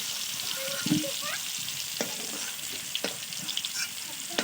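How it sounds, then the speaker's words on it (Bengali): Potatoes fry in oil with a constant close hiss and crackle, with occasional scraping stirs and no talking. "আলু তো লাল লাল করে ভাজা হয়ে গেছে"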